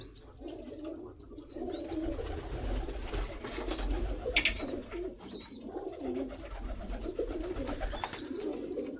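Young pigeons, including a red youngster and Budapest-type birds, coo softly and steadily in a loft, with low murmuring calls layered over a constant rumble and occasional higher chirps.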